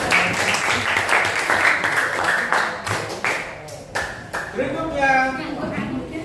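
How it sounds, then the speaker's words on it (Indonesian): A group of students in a classroom counseling session claps for a presenting group: dense, close clapping for about four seconds that thins into scattered claps as voices take over. "Boleh tepuk tangan?"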